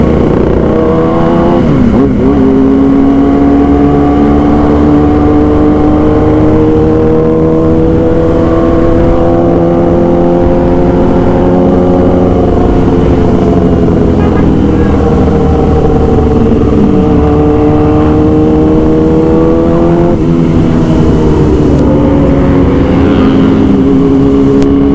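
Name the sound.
engine revving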